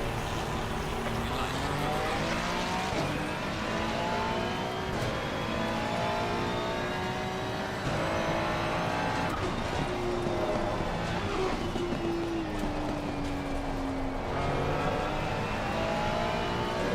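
Race cars revving and accelerating off the start at Silverstone in a racing video game, a steady loud engine whine with rising and shifting pitch throughout.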